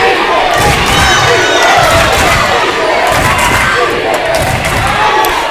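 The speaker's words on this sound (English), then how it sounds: "Wow, you don't need cheerleaders with a crowd like this." Loud high school basketball crowd at a Velma–Strother game, a sustained wall of cheering and shouting with faint ball bounces and thuds from the court underneath.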